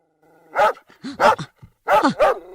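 A dog barks in close, loud bursts, two pairs of sharp barks with a short growl between them, with no talk over it.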